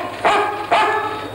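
A dog barks twice, two loud close woofs about half a second apart over a steady background hum, with no talking.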